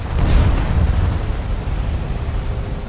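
A 25mm Bushmaster autocannon fires in a video game, mounted on an early M3 Bradley cavalry fighting vehicle, giving a loud, dense rumble of booming bursts across the whole stretch with no talk.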